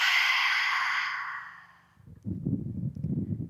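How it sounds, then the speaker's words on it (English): A long, breathy yogic lion's breath exhale pushed out with the tongue extended, strong and close at first and fading over about two seconds, followed by a rustling, low-pitched shuffle of movement. "Taking another lion's breath here, so inhaling through nose and then sticking tongue out"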